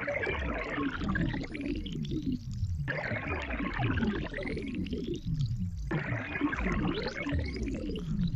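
A SynthVR synthesizer patch producing a glitchy, watery pouring sound like a drink being poured, with repeating sweeping textures that rise and cut off roughly every three seconds, dense and continuous throughout.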